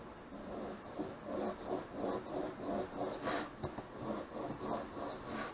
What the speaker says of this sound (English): you can still use the majority of your stone to sharpen it